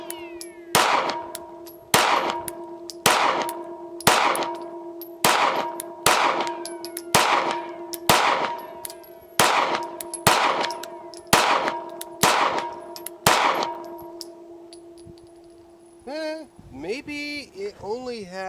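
About fifteen sharp pistol shots from a CZ P-10 C crack at an outdoor range in a steady, evenly spaced string, each followed by a ringing metallic echo. The firing stops near the end and faint chirping sounds follow.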